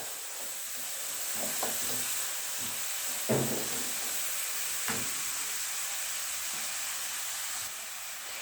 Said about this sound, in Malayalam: ഇതിലേക്ക് നല്ലതായിട്ട് ഒന്ന് നമുക്ക് ഇളക്കി കൊടുക്കാം ഉള്ളി സോഫ്റ്റായി വരുന്നവരെ